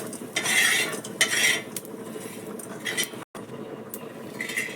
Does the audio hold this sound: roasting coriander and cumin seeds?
yes